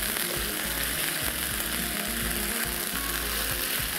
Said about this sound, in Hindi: चिकन को अच्छे से करना है फ्राई जिंजर के पेस्ट